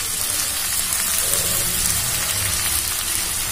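Potatoes fry in a pan with steady, continuous sizzling that holds at an even level throughout, a close crackling hiss with no voices over it.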